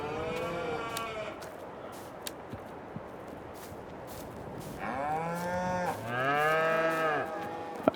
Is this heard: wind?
no